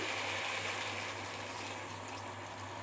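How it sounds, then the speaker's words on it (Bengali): Water is poured into a cooking pot of sautéed mixed vegetables and soybean chunks, a steady, even gushing splash lasting about three seconds with no talking. "এবার আমি জল দিয়ে দিচ্ছি"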